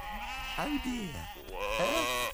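Sheep bleat loudly and close by in two wavering calls, one after another.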